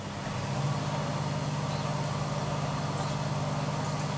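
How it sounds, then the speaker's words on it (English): A steady low engine drones in the background with a constant hum, a truck pumping out a portable toilet at a distance. "it's the truck to empty out the port-a-loo."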